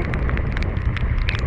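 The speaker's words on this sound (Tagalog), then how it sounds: "Ang lakas ng ulan." Heavy rain during a motorcycle tour in the Cordillera mountains, a dense continuous hiss with scattered sharper drop impacts, loud and close, with no talking.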